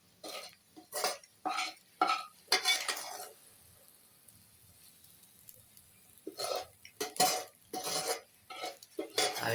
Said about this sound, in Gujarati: ડુંગળીને પકાવી